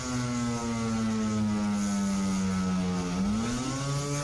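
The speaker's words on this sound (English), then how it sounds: "a siren that was made by Electror back in the 1930s" A 1930s Electro siren sounds a loud, steady, droning honk like a boat horn, holding one rough, buzzing pitch before sliding slightly upward near the end, heard alone.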